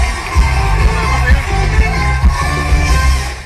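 A live audience at a game show event roars with cheers, yells and clapping, a loud continuous crowd swell over thumping background music.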